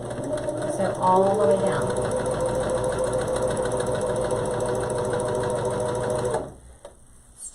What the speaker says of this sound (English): drop that, and then sew my seam closed